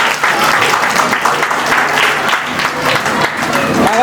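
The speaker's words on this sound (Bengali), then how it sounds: "একটা জোরে হাততালি হয়ে যায়।" An audience at a scholarship award ceremony in the Sundarbans claps loudly and continuously, a dense, steady round of applause from a sizeable crowd.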